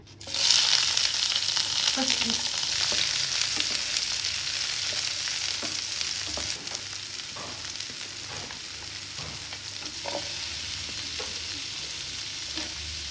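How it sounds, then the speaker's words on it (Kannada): Carrot, capsicum and onion fry steadily in oil in a pan, giving a continuous close hiss. Scattered ticks and scrapes from stirring run through it, and no one speaks. "ಈ ಪ್ಯಾನ್ಗೆ ಸ್ವಲ್ಪ ಆಯಿಲ್ ಹಾಕಿ ಕ್ಯಾರೆಟ್, ಕ್ಯಾಪ್ಸಿಕಮ್, ಆನಿಯನ್ನ ಸ್ವಲ್ಪ ಲೈಟಾಗಿ ಫ್ರೈ ಮಾಡ್ಕೊಂಡು ಎತ್ತಿಟ್ಕೊಳ್ಳೋಣ"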